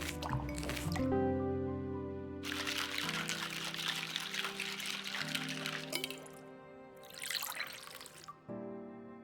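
A drink poured by a bartender in a video game bar, liquid splashing and dripping in bursts over game background music, moderately loud.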